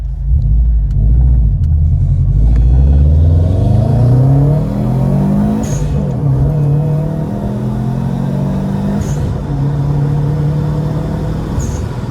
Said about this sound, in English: can definitely hear that blow off from a ways